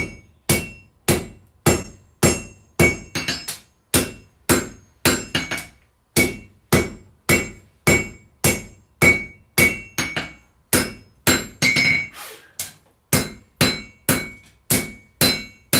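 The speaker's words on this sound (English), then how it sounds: "I'm going to use the top of my anvil to help shape this as I put the point in it" Hot steel Bowie knife being hammered on an anvil to shape its point: a steady series of loud, ringing hammer blows, roughly two per second, close and alone with no voices.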